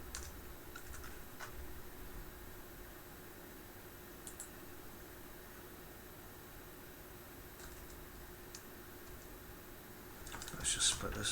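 Steady computer keyboard typing while writing C# code for Conway's Game of Life, a continuous run of light close-up key clicks at low level, with a brief louder burst of keystrokes near the end.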